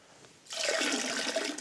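Water squeezed from a sponge drains into a toilet pan while the cistern is emptied, a steady close splashing and trickling that starts after a quiet half-second and runs continuously to the end.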